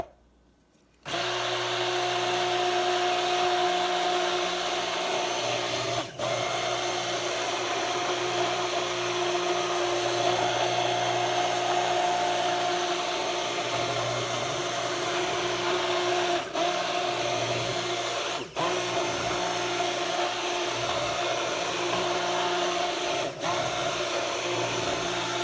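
Hot process soap batter being mixed until thick with a steady electric stick blender or mixer, a loud continuous motor drone with brief pauses and no talk.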